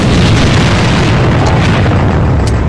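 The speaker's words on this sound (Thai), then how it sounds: "Бросаю гранату!" A loud, heavy grenade explosion in the game AVA fills the whole clip, a dense blast of noise that stays at full strength throughout with no voices.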